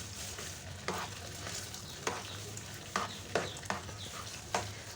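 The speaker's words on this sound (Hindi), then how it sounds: "इसको मैं अच्छी तरीके से मिक्स कर लेती हूँ।" A spoon stirs aloe vera halwa in a pan over a soft, steady sizzle. Faint periodic scrapes and knocks of the utensil against the pan come through, with no talking.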